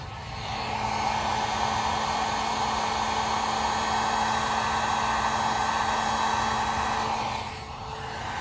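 A cheap, low-powered heat gun blows hot air onto a car door, a steady, loud broadband whoosh held for about seven seconds before easing off, with no talking.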